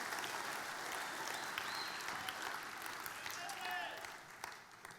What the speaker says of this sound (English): What about a round of applause for them?